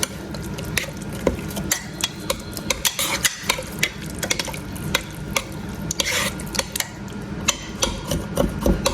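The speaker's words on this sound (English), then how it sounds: "Do a little stir here, Lipton onion mix." Spoon scraping and stirring broth with Lipton onion mix in a pan, steady clinks and scrapes recurring in an uneven rhythm over a soft background simmer, close and fairly loud.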